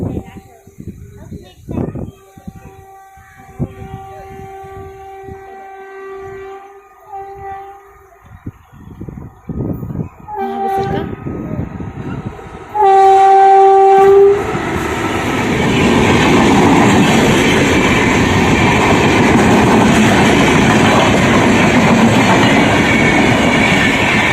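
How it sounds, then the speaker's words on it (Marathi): A train passes a closed railway crossing, swelling from distant rumble to a loud, steady roar of wheels and carriages that fills the second half, with a horn blast just before it arrives and people talking beforehand. "आता ट्रेन आलेली आहे रेल्वे गेट बंद आहे"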